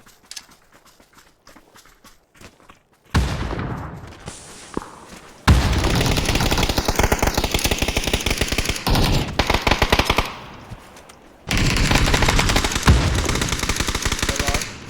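Gunfire from a house in the PUBG battle-royale game: loud rapid bursts of automatic fire come in several long stretches, with short quieter gaps and faint game noise between them.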